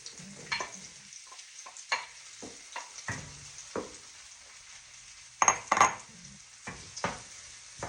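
Onions and mushrooms fry in a pan for chicken fried rice, with a soft continuous sizzle. Frequent wooden spoon scrapes and stirring knocks sound against the pan, including a couple of louder clinks near the end, and no one speaks.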